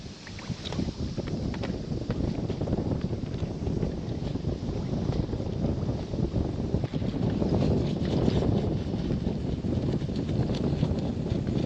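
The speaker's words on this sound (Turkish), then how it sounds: "Çok esiyor hava." Strong wind blowing outdoors beside a boat, a steady loud roar buffeting the microphone throughout, with no talking.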